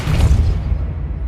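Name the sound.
Depulso spell cast in the video game Hogwarts Legacy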